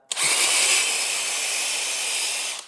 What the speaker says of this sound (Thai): การเจาะหมวดที่สาม ค่อยๆก่อน เดี๋ยวผมจะกดสุดเลยนะครับ